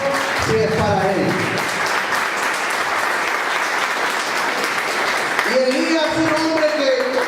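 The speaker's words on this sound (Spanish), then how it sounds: "Vamos a poner el aplauso si es para Él" Church congregation applauding, a loud, dense burst of clapping in the middle of the clip, framed by music or voices at the start and end.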